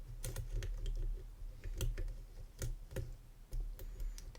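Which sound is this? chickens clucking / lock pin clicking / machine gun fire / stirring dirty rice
lock pin clicking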